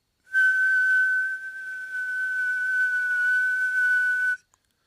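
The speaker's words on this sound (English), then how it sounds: "Did everybody hear that whistle?" A single steady whistle tone at one fixed pitch sounds for about four seconds as an unmodulated signal demonstration in an amateur radio Technician class. It is clean and loud, alone with no talk, and stops abruptly.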